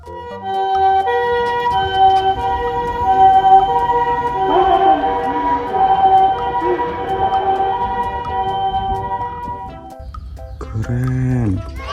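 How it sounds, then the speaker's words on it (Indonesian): A toy ambulance gives off a steady electronic siren tone that holds for about ten seconds, close and fairly loud, and a person speaks briefly near the end. "Wih, ada ambulan putih besar."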